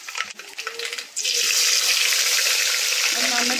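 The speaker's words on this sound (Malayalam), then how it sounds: "നമുക്ക് കറിവേപ്പില ഇട്ട് കൊടുക്കാം" Curry leaves hit hot coconut oil that already holds mustard seeds. After a quieter first second, a loud, sudden burst of sizzling erupts and continues as a close, dense, steady hiss.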